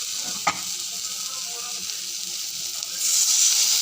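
Pabda fish curry frying in a pan gives a steady close sizzle after a sharp clink, then the hiss swells louder as water is poured in.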